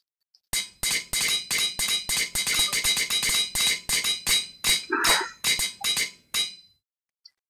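Rapid metallic hammer strikes in GregTech 6 on Minecraft, a dense run of about two dozen sharp, evenly spaced clanks for roughly six seconds, loud and close, then stopping abruptly.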